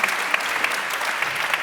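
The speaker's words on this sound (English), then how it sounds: "Big round of applause for these idea generators." A conference audience in Berlin applauds, a dense, even patter of many hands clapping that holds steady for the whole moment, with a few sharper claps standing out.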